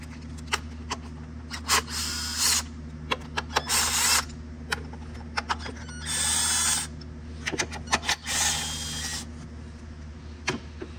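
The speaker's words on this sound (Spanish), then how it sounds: "Ahora vamos a quitar los 4 tornillos." Four screws come out of the ignition coils on a 2000–2005 Toyota RAV4, heard as several short whirring bursts from a small power driver, mixed with scattered clicks and ticks of tool handling over a low steady hum.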